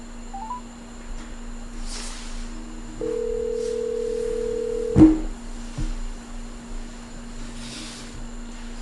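A telephone line hums with a steady tone while a call is placed to a podcast guest, joined by a sustained tone partway through and a sharp click near the middle, all close and clear.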